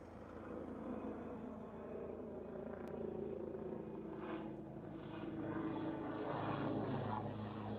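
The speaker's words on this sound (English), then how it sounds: "Yep, Coastguard helicopter's doing a fly through." A Coastguard helicopter flies through at Liverpool Airport, a steady broad rumble with rotor throb that swells gradually and stays fairly distant and moderate, with no talking.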